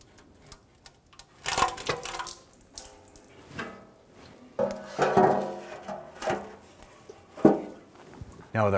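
Transmission fluid drips and splashes from the removed oil pan of a 1999-2004 Jeep Grand Cherokee 4.7L V8, heard as irregular wet spatters and faint metallic clinks at close range.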